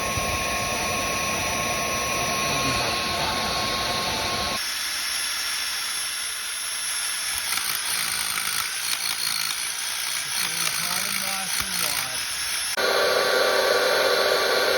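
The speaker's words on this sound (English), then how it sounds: "Got the air pump into a bit of hose, into the middle of the stump" Air pump blowing through a length of hose into the burning middle of a tree stump: a steady, loud hiss of rushing air that carries on without a break, with its tone changing partway through.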